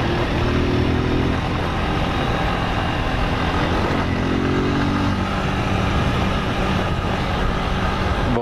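A motorcycle rides a rough dirt road through forest near Mairiporã, its engine droning loud and continuous close by, with pitch rising and dropping as gears shift, wind and road rumble filling the background.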